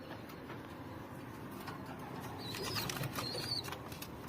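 A racing pigeon flaps its wings in brief fluttering bursts while being caught by hand and put into a basket, faint and close, over a quiet hum with no talk.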